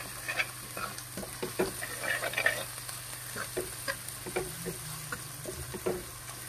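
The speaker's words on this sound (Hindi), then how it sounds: "और अभी साथ में अदरक और हरी मिर्च डाल देंगे और इसको भी लगातार ऐसे ही फ्राई करेंगे" Ginger and green chili frying in desi ghee for Punjabi sarson ka saag, with a steady soft sizzle under repeated scraping knocks of a spoon stirring the pan, close and moderately quiet.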